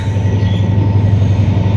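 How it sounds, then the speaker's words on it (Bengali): A passing train on the Mohanganj to Kamalapur line rumbles steadily and loudly throughout, with a continuous low drone of rolling wagons and faint wheel squeal, no talking. "ট্রেন চলে যাইতাছে"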